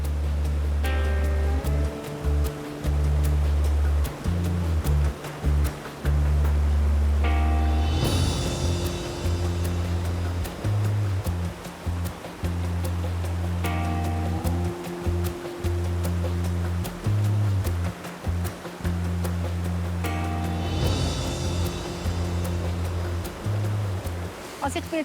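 A mountain stream in Ticino rushes in a steady broadband roar close by, with a voice speaking over it for much of the time and a few louder splashing surges.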